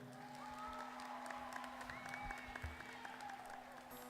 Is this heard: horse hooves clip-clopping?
no